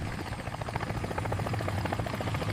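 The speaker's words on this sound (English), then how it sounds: "It's time for Skye's helicopter skills day." A cartoon helicopter taking off and hovering, its rotor chopping in a steady fast beat over a constant engine drone, loud and continuous with no talk.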